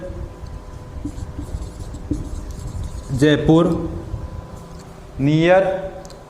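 A pen scratches across paper in short, quiet strokes up close, while someone speaks over the writing in between.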